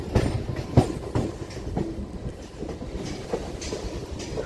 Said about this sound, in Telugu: అది వచ్చేసి మచిలీపట్నం ధర్మవరం ట్రైన్. అది 2వ నెంబర్ ప్లాట్ఫామ్ మీద ఉంది.